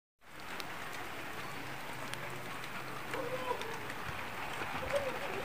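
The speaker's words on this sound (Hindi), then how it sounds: "बारिश बहुत तेज़ हो रही है" Steady heavy rain hissing down on a mountain village in Gilgit-Baltistan, a broad continuous wash with occasional birds calling faintly in the background; no one speaks.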